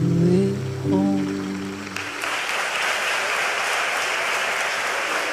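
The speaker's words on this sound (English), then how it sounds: "put your hands together, keep the applause going" Audience applause at a school graduation ceremony swells after a voice singing the final sustained notes, becoming a broad, even patter of many hands clapping that continues steadily.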